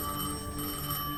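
A telephone rings with a steady, continuous tonal bell that is moderately loud and unbroken for the short stretch, with no voices.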